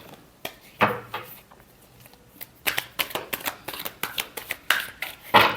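Tarot cards being shuffled by hand in a series of crisp riffling bursts and soft slaps, close and fairly loud, with a quieter gap before quickening repeated shuffles toward the end.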